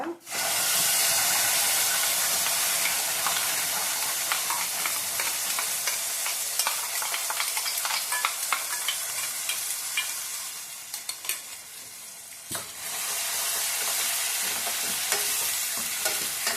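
Betel leaf and ground tomato paste frying for rasam over low heat, a steady broad sizzle with stirring scrapes running throughout, dipping briefly near the end before resuming.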